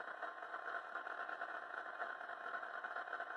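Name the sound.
model diesel locomotive engine idling sound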